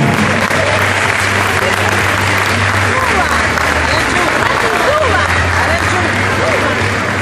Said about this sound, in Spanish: Fuerte el aplauso para estos chicos que se han esforzado para mejorar.